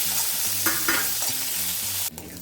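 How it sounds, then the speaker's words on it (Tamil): Curry leaves fry and get stirred in hot oil in a pan, giving a steady, dense sizzle with rhythmic scraping strokes from the spoon, close and loud with no talking. "கொஞ்சமாக கருவேப்பிலை போட்டுக்கலாம் இதையும் நல்லா வதக்கிக்கலாம்"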